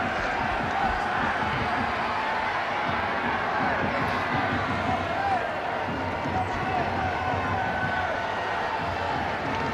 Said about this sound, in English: the Lansdowne Road crowd giving every respect, and now giving applause